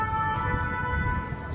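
Ambulance siren wailing at a street scene during an emergency response in Paris, with several ambulances and fire crews present; a steady, loud tone holds throughout over low traffic rumble, with no talk.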